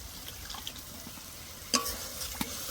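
Spice paste of ground poppy seed, melon seeds and cashew fried and stirred in a pan for a fennel-flavoured katla fish curry: a low steady sizzle with a sharp spoon scrape near the middle and another soon after.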